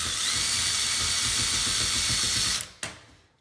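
A power drill backs out the screws on a door handle, running as one loud, steady whine for about two and a half seconds before it cuts off, with a short final burst just after.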